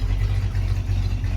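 The engine of a 1969 Chevy C10 Custom pickup truck idles on a hot day in Houston, giving a steady, close, low rumble for a moment with no talking.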